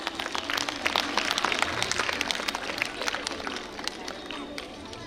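An audience at a Jain Mahila Mandal women's gathering in Jalgaon breaks into dense, sustained applause to welcome guests onto the stage, a steady wash of many hands clapping with crowd murmur underneath.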